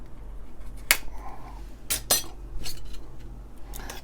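A can of cream of mushroom soup is opened in a kitchen, giving a few sharp metallic clicks and clinks spread across a quiet background, with no talking.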